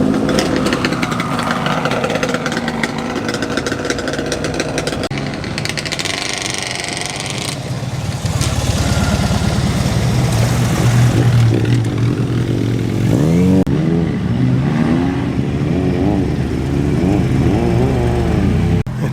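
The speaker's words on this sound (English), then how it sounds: "the burbly, very distinctive exhaust note too of the Saab 900 Turbo" A Saab 900 Turbo's burbly exhaust at a car show, the engine idling roughly then revving up and down in loud, close bursts with a deep throbbing note and some mechanical clatter.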